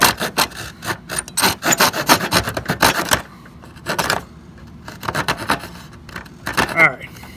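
Hand coping saw cutting a wooden baseboard with quick rhythmic strokes in bursts, then pausing and resuming with shorter runs of rasping cuts.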